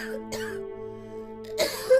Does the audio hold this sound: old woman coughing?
yes